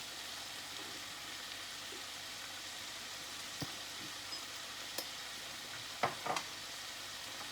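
Vegetable quesadilla filling with cilantro sizzles steadily in a pan while being stirred, a soft continuous hiss broken by a few faint utensil clinks near the end.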